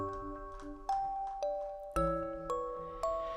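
A chiming notification bell sound effect rings out in a sequence of clear, melodic ding tones, each struck note ringing and decaying before the next, fairly prominent with no talking.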